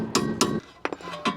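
A hammer strikes a seized car coilover, about five sharp metallic clanks in an uneven rhythm, close and ringing briefly after each hit.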